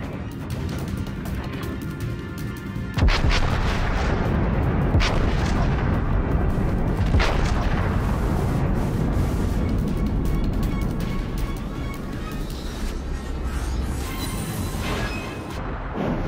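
Naval artillery fire support in a video game: a dense, loud battle din with heavy booming blasts, a strong one near the start and another a few seconds later, over continuous rumbling without speech.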